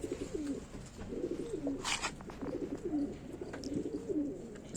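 Pigeons, a female brought from Pilibhit among kaldume and kalpare birds in Bareilly, coo in soft repeated low phrases, close by and steady, with no talk over them.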